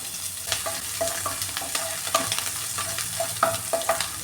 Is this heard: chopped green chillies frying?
yes